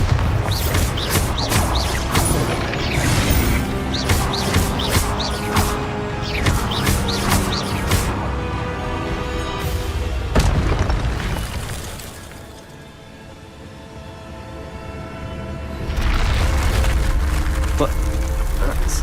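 Bombarda spell in Hogwarts Legacy bursting with crashing, splintering impacts amid repeated combat spell blasts, loud and busy, dipping into a quieter stretch before another surge of debris and crackling.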